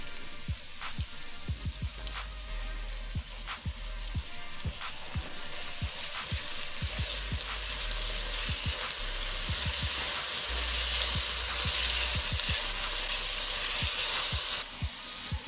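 Vegetable fried rice sizzles loudly in a pan with tomatoes just added. The frying hiss is steady and close, broken by light clicks from stirring, and it swells slightly louder toward the end.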